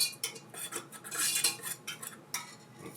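A utensil stirs yeast into pizza flour in a mixer bowl, making quick irregular clinks and scrapes against the bowl, close and fairly quiet, with no voices.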